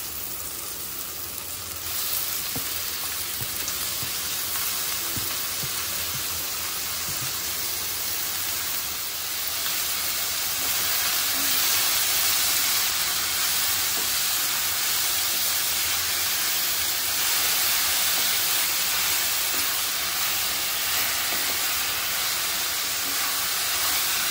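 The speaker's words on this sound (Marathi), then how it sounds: "चांगले परतून घेते तेलावरती" Taikal (takla) greens and onion sautéing in hot oil for a Maharashtrian monsoon bhaji, a steady broadband sizzle and hiss that holds loud and even throughout with no talking.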